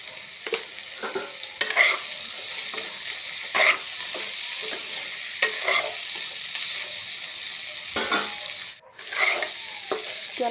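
Pork curry sizzles steadily in a pan, with a broad frying hiss running throughout and periodic scraping strokes of a spatula stirring the meat, close and fairly loud with no talking.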